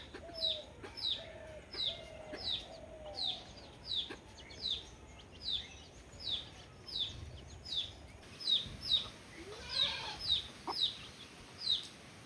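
Chickens cluck in a steady, repeating pattern of short calls, with a few lower cooing notes early on and no voices.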